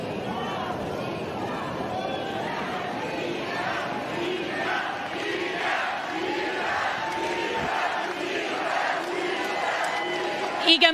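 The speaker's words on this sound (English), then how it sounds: "because the crowd chanting your name" A large tennis crowd at a women's match in Toronto chants Swiatek's name in a steady rhythmic cadence, loud and continuous, with a commentator's voice over it.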